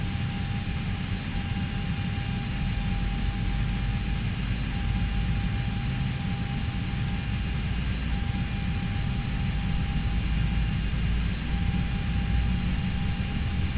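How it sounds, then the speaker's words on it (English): Airbus airliner engine starting up in FSX, a steady broad whine and rushing roar with a constant tonal hum, even and unbroken, no talk. "Engine 2. Starting engine"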